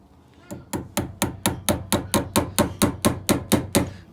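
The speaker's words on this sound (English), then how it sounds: "you put them in the groove and you're gonna hammer them in" Rapid, evenly spaced hammer taps drive wheels into a wooden pinewood derby car, about fifteen sharp knocks in a steady rhythm, close and crisp.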